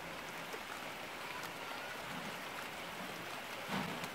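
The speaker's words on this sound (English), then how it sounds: "if it keeps raining like this, we'll have to stop the whole thing." Rain falls steadily on a catfish pond construction site where blocks and mortar are being laid, a dense, even hiss with occasional louder drips.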